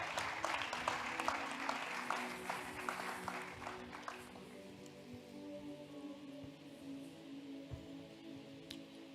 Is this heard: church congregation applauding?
yes